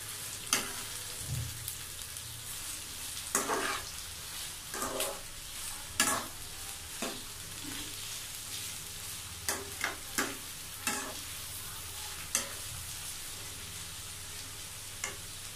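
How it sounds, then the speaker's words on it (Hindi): Onions frying in oil in a pan for a ladyfinger (bhindi) fry, a soft steady sizzle with repeated sharp scraping stirs at irregular intervals, close and moderately quiet with no talking. "इसी ऑयल में हम थोड़ा सा ऑयल और शामिल करेंगे और इसमें प्याज शामिल करके प्याज को हल्का ब्राउन होने तक फ्राई करेंगे।"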